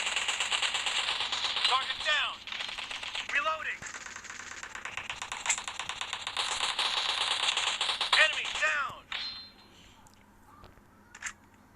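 Gunfire in the mobile battle-royale game PUBG Mobile on the Livik map: rapid bursts of automatic shots and clicking mechanical clatter over several seconds, fairly close, dying away near the end into quieter game sounds.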